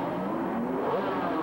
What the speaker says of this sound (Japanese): 8000回転クラッチミート OK の桂 R32GTR が大外からトップへ